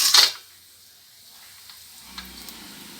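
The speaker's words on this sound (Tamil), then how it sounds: "எண்ணெய் காஞ்சிடுச்சு, எடுத்து வச்சுருக்க மசாலா எல்லாத்தையும் போட்டுருவோம்." Masala spices hit hot oil for chicken biryani with a loud, sharp sizzle at the start that fades quickly to a quiet, steady frying hiss.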